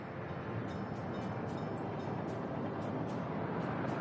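A locomotive runs steadily in the Soviet-era city-building game Workers & Resources: Soviet Republic, giving a continuous low rumble with faint rhythmic rail clicks throughout, fairly near and unbroken.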